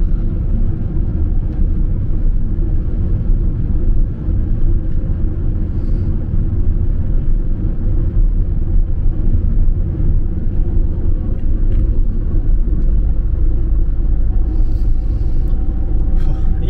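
A Mercedes Vito van drives along snowy roads in Chisinau, heard from inside as a loud, steady low engine and road rumble without pause.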